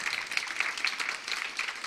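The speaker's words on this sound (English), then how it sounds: "yes, we can clap for that" A crowd applauds with dense, steady clapping throughout, moderately loud, with no clear talking over it.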